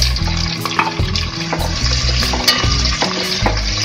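Onions hit hot oil with whole spices for a white chicken pulao, crackling in a loud, dense sizzle close by while a spoon stirs and scrapes through the pan with repeated knocks.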